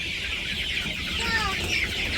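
Chickens cluck steadily in a noisy coop, several birds calling over one another at close range.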